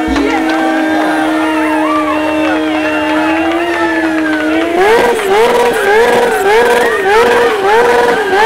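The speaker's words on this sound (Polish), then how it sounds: "Praktycznie palenie go w miejscu, bez poruszania się motocykla." A motorcycle does a stationary burnout during a stunt show, its engine screaming at a high wavering pitch that rises and warbles as the tire spins in place, loud and close throughout.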